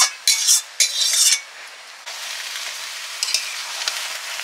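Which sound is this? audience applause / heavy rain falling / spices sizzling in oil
spices sizzling in oil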